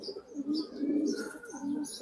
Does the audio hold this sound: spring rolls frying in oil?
no